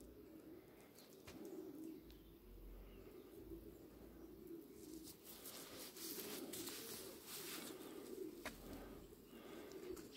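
Janssen Arendonk racing pigeons cooing in a loft, a steady low murmur of soft coos from several birds with faint chirps and occasional rustling, continuous and fairly quiet.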